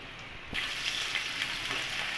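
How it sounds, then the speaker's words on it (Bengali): Prawns dropped into hot oil in a pan for a light fry, a sudden close sizzle that swells and then holds as a steady crackling hiss. "এখন এগুলোকে আমি হালকা ফ্রাই করে নিব।"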